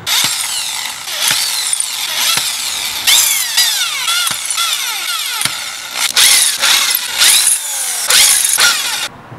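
A power drill bores holes for mounting a homemade steadicam's wooden platform. It runs in loud, close bursts of whining motor that rise and stop, separated by short pauses.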